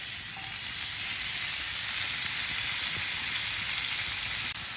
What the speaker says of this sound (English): we want a good sizzle when they go on. That's the noise we're after.